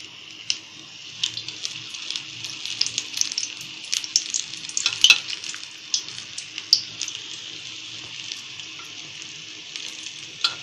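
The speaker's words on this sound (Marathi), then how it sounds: "जेवढे तेलात आपल्या बसतील तेवढे असे तळून काढायचे" Capsicum pakoda fritters in batter sizzle steadily in hot oil on a medium flame, with a constant close bubbling hiss and small crackles and pops throughout, and no talking.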